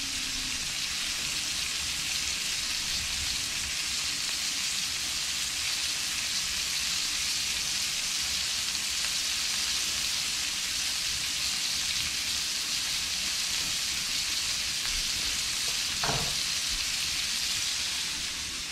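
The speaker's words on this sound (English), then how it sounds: "we're gonna brown that rabbit 2 to 3 minutes per side on a medium heat and to get a good brown on it" Rabbit pieces browning in a pan over medium heat give a steady, soft sizzle like light rain, continuous and fairly faint, with one brief clink near the end.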